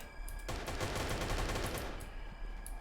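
Bursts of automatic gunfire in the video game Reign Fall, a rapid rattling run of shots that swells loud for about a second and a half, then trails off into scattered fainter shots.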